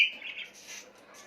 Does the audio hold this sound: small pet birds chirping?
yes